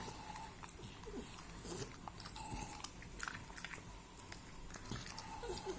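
An American Bully dog chewing a teeth-cleaning dental chew, quiet repeated crunching and biting up close over faint background noise.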